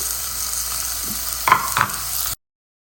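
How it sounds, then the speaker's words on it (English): Onions, beetroot and garlic sauté in a pan for a tomato soup, giving a steady close sizzle with two quick spatula scrapes near the end before it cuts off abruptly. "Once you have sauteed the hard vegetables for about a minute or two"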